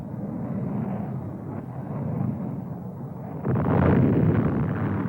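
Bombing explosions from the siege of Khe Sanh, heard as a continuous deep rumbling roar that swells louder partway through, with no voices over it.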